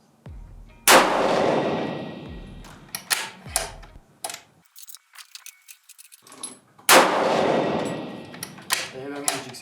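Two loud, close .308 Winchester rifle shots, each a sharp crack with a long reverberating tail, sound several seconds apart at an outdoor range. Metallic clinks and handling noises from the bolt and brass fill the gap between them.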